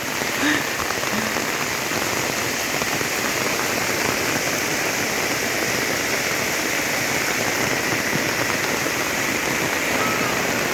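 Heavy rain pours down in a dense, loud, unbroken hiss, and runoff rushes along the path toward a house. It goes on steadily with no pauses.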